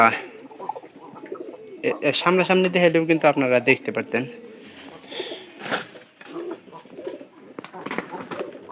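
Pigeons coo softly in the background while someone talks over them at close range.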